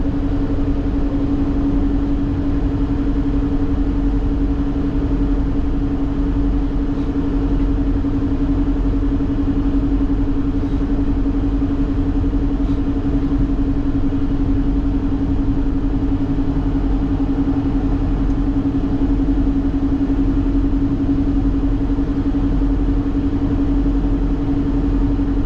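Steady car road noise on I-80 in Wyoming between Laramie and Cheyenne, a continuous loud rumble with a constant engine drone lasting throughout, no voices.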